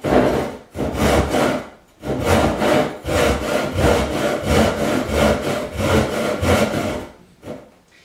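Hand saw cutting wood at a 45-degree angle while kitchen base cabinets are fitted, steady rhythmic push-pull rasping strokes, close and loud, with short pauses between bursts.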